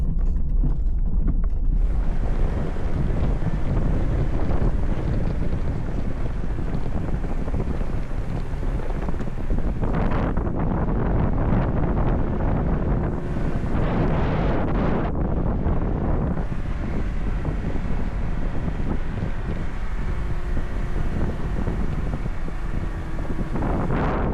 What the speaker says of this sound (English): It is so windy up there.